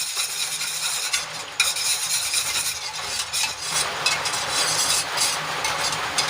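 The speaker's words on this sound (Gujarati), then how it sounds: "આ રીતે એકથી બે મિનિટ સુધી હલાવી લેવું" Curd being stirred into milk for homemade set yogurt, a steady continuous swishing and scraping that stays close and even throughout, with no talk.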